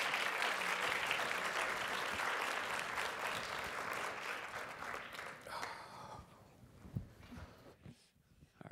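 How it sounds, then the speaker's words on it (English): A room full of people gives a steady round of applause for the speakers at a master class, dense clapping that fades out toward the end, leaving a few scattered claps. "Can we have a round of applause for our speakers, please?"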